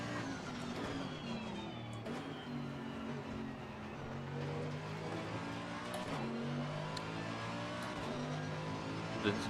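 Race car engine in Assetto Corsa Competizione at Barcelona, running loud and steady with continuous revving and gear changes, the car sliding with oversteer, heard alone without talk.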